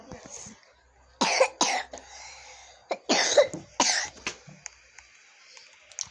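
Several harsh coughs burst out in a quiet indoor room, coming in close, loud clusters with short pauses between them, followed by a few fainter throat sounds.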